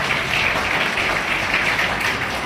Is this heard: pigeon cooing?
no